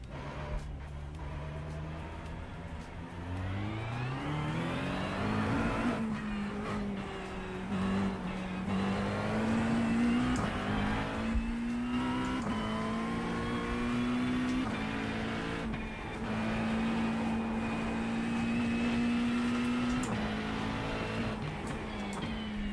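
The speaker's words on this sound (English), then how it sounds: "Sounds like a fridge, this car." Race car engine in the iRacing sim, a new Ford Mustang lapping Road America, droning steadily and rising through revs with gear changes, loud and continuous with no talk.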